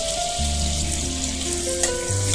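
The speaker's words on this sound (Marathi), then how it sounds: "बटर आपला प्रॉपर मेल्ट झालाय, त्यामध्ये आपण आता सध्या टाकणार आहोत तेजपत्ता" Bay leaf hits melted butter in a kadai and sizzles steadily and fairly loudly, with faint tonal hum underneath and no voices.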